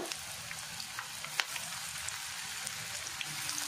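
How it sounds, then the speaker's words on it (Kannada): Bitter gourd slices deep frying in hot oil, a dense, even sizzle close by with tiny popping crackles and one sharper snap, steady throughout and free of talk. "ಇತ್ತೆ ನಮ್ಮ ಎಣ್ಣೆಡು ಡೀಪ್ ಫ್ರೈ ಮಲ್ತೆಗೆ"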